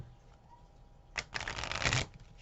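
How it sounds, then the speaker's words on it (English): Tarot-style life purpose cards being handled and shuffled, a quiet rustle followed by a louder burst of riffling card noise lasting about a second, close and alone with no talking. "Let me go ahead and get life purpose cards out here."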